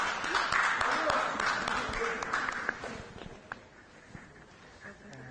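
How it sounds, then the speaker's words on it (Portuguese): An audience applauds a speaker at an event, a dense wash of clapping that is loudest at the start and then gradually fades and thins, with a few scattered claps and faint movement left at the end. "vamos aplaudir o nosso professor Donato!"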